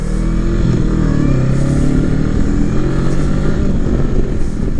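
A 500-class motorcycle runs loud and close with a steady engine drone and harmonic whine, its pitch edging up slightly through the clip with no voices.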